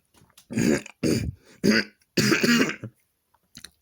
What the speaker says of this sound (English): cough coming up